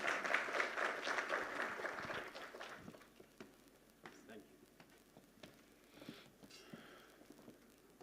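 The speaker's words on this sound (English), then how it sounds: "A big round of applause," An audience at an Indian conference on cyber security for trade and industry claps in a dense burst for about three seconds, then fades into scattered claps and room noise.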